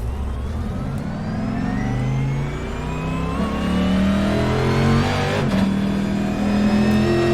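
A race car on track with its engine revving and climbing steadily through the gears, loud and close, a strong continuous drone rising in pitch with a brief shift break midway.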